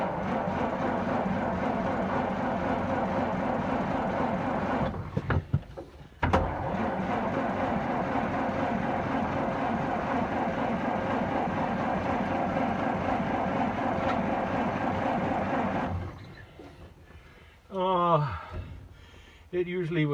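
A 1919 Oshkosh truck engine cranking over and over without firing, a steady rhythmic churning at close range that runs for many seconds, breaks off briefly, resumes, then stops with some shuffling noises near the end.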